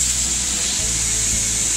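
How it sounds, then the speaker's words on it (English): Steady abrasive rubbing of sandpaper by hand on metal being prepared for powder coating, a continuous close scratchy hiss with no talking. "He's sanding also."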